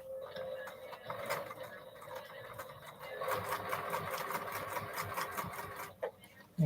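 A domestic sewing machine stitches through a heavy quilt in a continuous, close whirring run that ends abruptly, with a soft hum and faint mechanical clatter.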